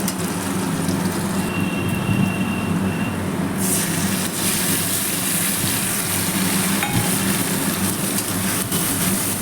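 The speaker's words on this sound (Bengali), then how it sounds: "সর্ষে লঙ্কা বাটা দিয়ে হালকা একটু নাড়াচাড়া করলাম।" Fish masala with mustard-chilli paste is stirred and fried in a pan, giving a loud, continuous sizzle with scraping stir noises throughout.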